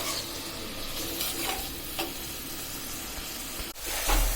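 Onion, garlic, shrimp and green chillies frying in a pan, a steady close sizzle with stirring scrapes throughout and a brief louder burst near the end.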